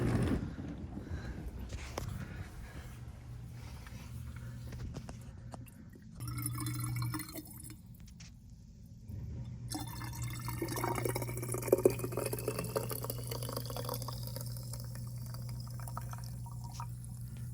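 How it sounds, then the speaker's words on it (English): Water rushes and gurgles steadily as a dishwasher drains, over a constant low mechanical hum, fairly quiet throughout. "The dishwasher's full of hot water. Now I'm just gonna drain it all out and make sure it all drains."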